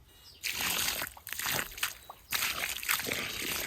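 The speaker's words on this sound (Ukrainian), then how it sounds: "полью тим розчином, корневіном, в якому троянда замокала" Liquid rooting-stimulant solution that a rose was soaked in pours and splashes onto soil in uneven bursts, a close gurgling trickle that starts, pauses briefly, and resumes.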